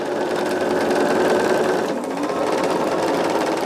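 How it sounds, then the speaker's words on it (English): A sewing machine runs steadily, stitching a 1/4-inch seam on a jelly roll Irish chain quilt top. The motor hum is loud, close and continuous, with no talking. "getting that first stitch in it to hold my quilt top"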